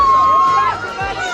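Crowd noise at a county fair doughnut eating contest, a loud, dense wash of cheering and shouting voices close by, sustained throughout with overlapping chatter.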